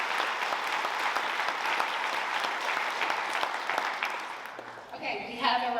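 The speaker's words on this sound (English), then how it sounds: "We just want to give them a round of applause as well." An audience claps for event volunteers in a hall, dense steady applause that fades over a few seconds before a voice starts talking.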